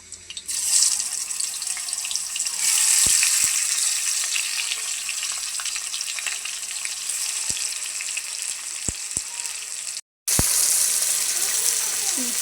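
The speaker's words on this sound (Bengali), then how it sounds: "আর এটার এই সাইডে আমি মুরগিটা এখন বাইজে নেব।" Chicken pieces fry in a pan, making a continuous close sizzle punctuated by occasional sharp utensil clicks, with a short silent gap near the end.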